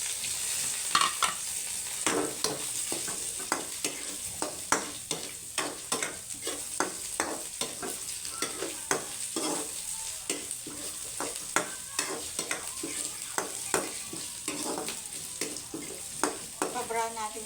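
Onion and other ingredients stir-fried in a pan for squash in coconut milk, with steady sizzling and repeated sharp scrapes and clacks of a utensil against the pan in an irregular rhythm, close and clear.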